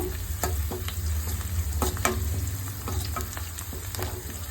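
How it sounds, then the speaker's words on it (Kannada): Curry leaves crackle and sizzle in hot oil with fried onions in a pan, a steady frying hiss broken by repeated scraping stir strokes of a spoon, close and continuous with no talk. "ಫ್ರೈ ಆಗ್ತಿದ್ದಾಗೆ ಇದಕ್ಕೆ ಸ್ವಲ್ಪ ಕರಿಬೇವು ಸೊಪ್ಪು ಕೂಡ ಹಾಕೊಂಡು ಚೆನ್ನಾಗಿ ಇವಾಗ ಹುರ್ಕೋಬೇಕು"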